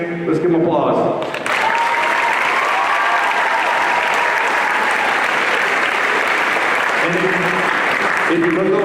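A concert audience breaks into loud, sustained applause for school bands, the clapping swelling after a brief voice and holding steady throughout.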